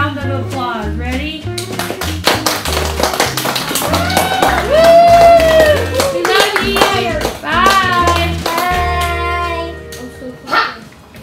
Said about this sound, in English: Here's you a round of applause.